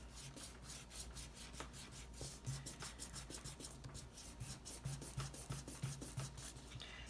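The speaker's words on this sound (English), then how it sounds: "I'm going to take the eraser and I'm just going to go around the edges" Kneaded eraser rubbing graphite off paper around the edges of a lady slipper drawing, a quiet, steady scrubbing rasp in repeated short strokes close up, alone.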